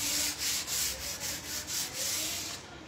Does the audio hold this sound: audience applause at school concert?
no